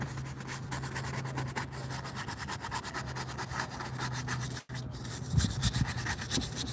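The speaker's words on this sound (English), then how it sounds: "Scrub, scrub, scrub. It's dry brush." A dry brush scrubs paint onto a surface outdoors during plein air painting in a field of bluebonnets, producing a continuous rapid scratchy rubbing with quick repeated strokes, close and steady under a low background hum.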